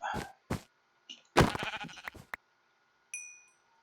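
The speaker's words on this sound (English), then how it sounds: "Drude hunted a sheep." A sheep in the Minecraft video game bleats in a few short, close cries, followed by a burst of clattering game sounds and a brief bright chime.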